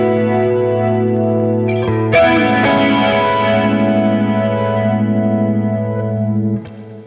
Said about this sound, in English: so the flanger I'm using is the TC Electronic Vortex